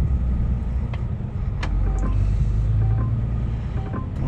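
A car drives off a ferry ship at Dublin, its engine a steady low rumble heard from inside the vehicle, with a few faint clicks and knocks over the continuous road noise.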